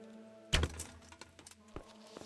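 An arrow is shot at ropes in Kingdom Come: Deliverance. A single sharp thunk of impact lands, followed by a few fainter knocks over a quiet game background.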